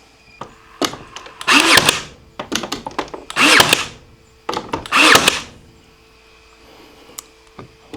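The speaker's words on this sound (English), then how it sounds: "So we're gonna go ahead and cut this wood plank." A power tool cuts through a wood plank being made into a shim, running in three loud bursts of a few seconds each with short whirring starts and stops between them, close by and with no voices.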